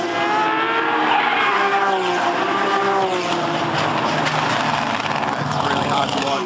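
Porsche Cup race car in Australia, with a loud, strained engine snarl and tire squeal as it skids, under a dense continuous roar that also carries broadcast commentary and crash noise.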